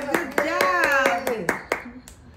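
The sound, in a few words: clapping hands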